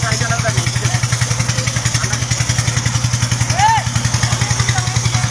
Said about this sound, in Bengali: আরেকটা বোট আসছে